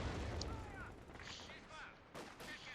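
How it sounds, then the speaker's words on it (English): Distant battlefield gunfire in Company of Heroes 2, scattered shots and rumbling bursts under faint background mixing, fairly quiet overall with a sharper burst near the end. "They're shooting here."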